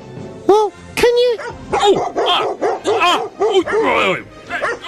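A dog barks and yips repeatedly in short bursts, loud and close, in a comedy radio sketch, with excited voices talking around and between the barks.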